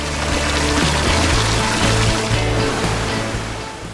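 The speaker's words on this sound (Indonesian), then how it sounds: "Air terjun ini memang gak terlalu tinggi, tapi alirannya sangat indah." Curug Pangadegan, a low waterfall, pours into a clear pool beside a river with a loud, steady rushing roar that stays constant throughout and has no voices over it.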